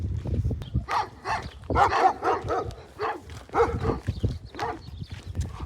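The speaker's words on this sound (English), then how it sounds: "Oh, there's another dog in the other one." Dogs bark repeatedly in excited bursts at a moderate distance, overlapping one another against a low rumbling background, near an aqueduct on the Pacific Crest Trail.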